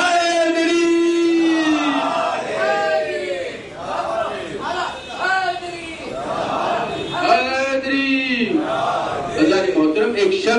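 A gathered religious crowd roars back in unison to the Naara-e-Haidari slogan at a Shia sermon gathering, a loud sustained collective chant of many voices, with rising and falling shouts over several seconds.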